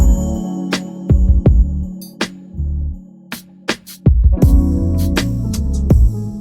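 An R&B beat intro plays: sustained chords over punchy drums and a chopped, short, bouncy bass line that stops and restarts in choppy bursts, loud and with no voices.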